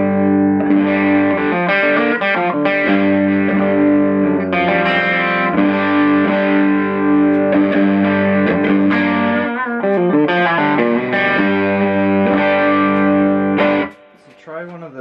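An electric guitar played through a TL Pedals King Klon overdrive with the gain raised gives a loud, sustained, crunchy distorted tone with chords and single notes ringing for most of the stretch, then drops off at the end.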